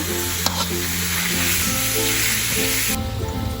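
Minced pork stir-fried in a pan sizzles loudly and continuously, with a clatter of the spatula early on and steady hissing that thins out near the end, no talk.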